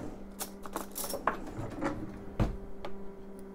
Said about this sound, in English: I'm gonna grab a spoon.